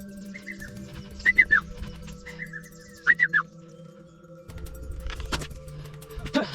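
A Hadza hunter whistles in two short bursts of chirping, bird-like notes imitating a bird call, over faint outdoor background noise with a low rumble; the whistling is a human imitation of the call.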